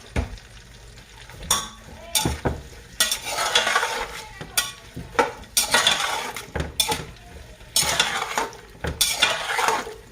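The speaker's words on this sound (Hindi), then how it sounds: "और अब हम इसमें ऐड कर देंगे ये भिंडियाँ और इसको करेंगे अच्छे से फ्राई" Okra (bhindi) frying in hot oil in a pan, stirred repeatedly: loud, close bursts of sizzling and spatula scraping against the pan, coming in irregular waves over a steady background hiss.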